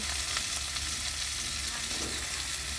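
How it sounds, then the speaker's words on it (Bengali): Rohu fish frying in hot oil, a steady dense sizzle that continues evenly for the whole stretch, close and fairly loud, with no voices. "রুই মাছ ভাজি করছি"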